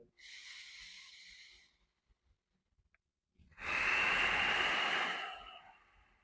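A slow, deep breath during a mobility stretching routine for squat depth: a soft, airy inhale, a quiet pause, then a longer, louder, breathy exhale, heard close with no talking.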